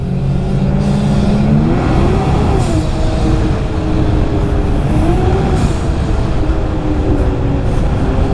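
A snowmobile engine drones loud and close while riding, with a 146 track. The pitch rises and falls through several revs and no one speaks.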